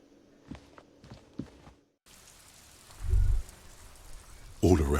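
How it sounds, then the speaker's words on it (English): Rain falling on a city in the video game Disco Elysium: a steady hiss of rainfall. It comes in after a few soft thuds and footstep-like sounds, with a low rumble and a louder burst toward the end. "All around you, rain falls on the great city of Revachol."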